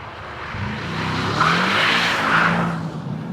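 A Mercedes-AMG E63 S estate's V8 burbles and rumbles steadily in rear-wheel-drive drift mode, swelling slightly mid-clip with a faint tyre hiss on top, fairly close and with no voices.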